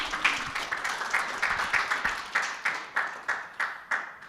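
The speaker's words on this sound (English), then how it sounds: "Let's have a round of applause." Audience applause at a business media awards event, moderately faint at first and thinning out into a few distinct, evenly spaced claps toward the end.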